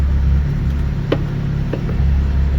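A Nissan 370Z with a nitrous setup idles on a dyno with a steady low rumble, broken by a couple of faint knocks.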